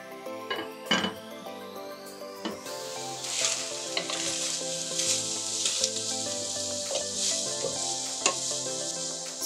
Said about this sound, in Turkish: Daha sonra yemeğimize 15 adet arpacık soğan ve 2 diş sarımsağı da ekleyip suyunu çekene kadar pişirelim.